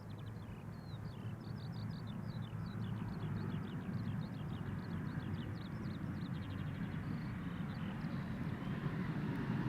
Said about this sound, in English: Right, Embraer 175 arriving from Nice, KLM flight 1474.